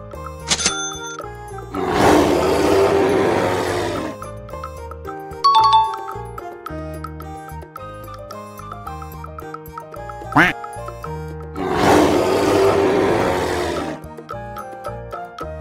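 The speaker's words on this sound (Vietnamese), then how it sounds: "Gấu Bắc Cực. Polar bears." Polar bears making two long, loud roaring or growling bursts over a background of music with chimes and tones, plus a few brief sharp accents between them.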